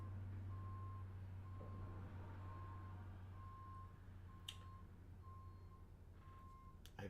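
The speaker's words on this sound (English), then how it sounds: "I'm sorry for the beeping" Electronic reversing beeps from a truck outside, a steady series of evenly spaced tones heard faintly over a low indoor hum, with a couple of brief clicks near the end.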